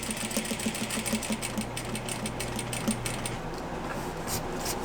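A sewing machine stitches plaid fabric in a rapid, even run of needle strokes close to the mic, then stops partway as the motor hum cuts out.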